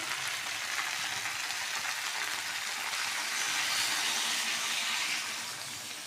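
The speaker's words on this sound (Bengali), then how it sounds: "এবার আমি জলটা দিয়ে দেবো।" Water pours into a pan of jackfruit and crab curry, a steady rushing hiss blending with frying sizzle that swells midway and then eases off.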